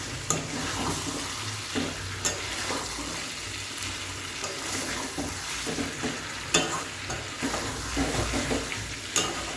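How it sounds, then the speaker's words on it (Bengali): Chicken curry fries in a pan with light spices as its oil separates, a constant close sizzle broken by regular spoon scrapes and knocks against the pan. "তেল ছেড়ে দিয়েছে, চিকেনের তেল ছেড়ে দিয়েছে"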